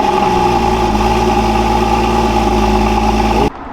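A Porsche GT4 sports car engine fitted with an aftermarket exhaust starts up, running loud and close with a steady, throaty drone, then cuts off abruptly.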